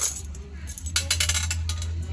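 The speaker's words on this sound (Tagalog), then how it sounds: "So, ito yung mga barya mga idol." Old coins dug from a termite mound clink and jingle together as they are handled up close, several bright metallic rattles in quick succession.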